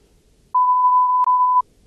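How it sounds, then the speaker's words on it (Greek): A single steady censor bleep tone lasts about one second, loud and alone, with a tiny click midway and quiet room hiss before and after. "Μπιπ."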